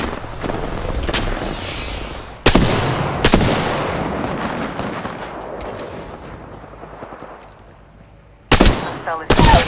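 Apex Legends gunfire, from a Longbow and an R99, rings out in loud, sharp bursts early on, trails into quieter combat ambience, then returns in rapid close volleys at the end.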